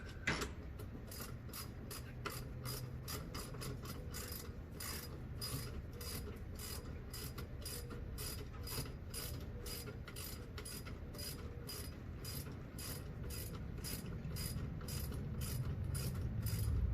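A ratchet wrench tightens a clamp on a K-series scatter shield, giving a long run of quick, evenly spaced clicks close up over a low background hum, no talk.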